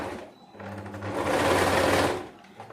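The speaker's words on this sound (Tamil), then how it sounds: "இதில் வந்துட்டு நான் அப்படியே திருப்பி வச்சு இன்னொரு தையலும் போட்டுக்கிறேன்." A sewing machine runs a second line of stitching along fabric piping, a close mechanical whirr that builds from a brief start into one sustained burst before stopping.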